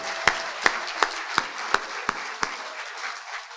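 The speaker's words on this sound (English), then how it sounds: "we've given a huge round of applause to a champion for our district, Laura Friedman" Applause at a community swearing-in gathering, with a few distinct, evenly spaced sharp claps near the microphone over a softer background of scattered clapping that fades toward the end.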